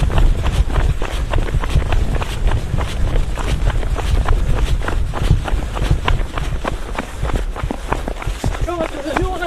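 Three people sprint to the tables during a children's game show, producing a steady rapid patter of running footsteps over a dense, loud wash of background noise.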